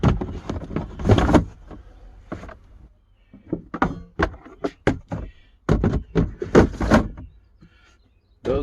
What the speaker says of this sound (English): Now it's a matter of putting the drawers in.